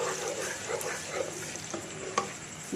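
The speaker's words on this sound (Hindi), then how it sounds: "इसको लहसुन और प्याज को फ्राई करें।" Chopped medium onion and garlic paste frying in hot oil in a pan, a soft steady sizzle with occasional stirring scrapes and light clinks, fairly quiet and close.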